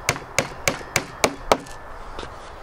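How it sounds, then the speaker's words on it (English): Six sharp hammer taps in an even rhythm drive 20 by 1.6 mm panel pins into a wooden panel door, close and crisp, followed by a few faint softer knocks. "nail these in"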